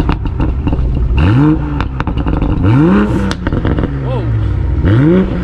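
Tuned 2020 Toyota Supra starting up and revving, loud rising engine sweeps repeating every second or so with crackling pops, close by.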